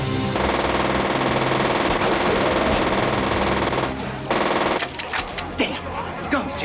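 Machine gun fire in a movie scene, a dense sustained burst of rapid shots for about four seconds, then a few scattered shots and clatter as the firing breaks off, loud and close.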